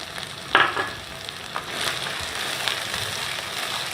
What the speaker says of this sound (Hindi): अब हमने इसको इतना भूनना है कि ये जो घी है ये ऊपर आ जाए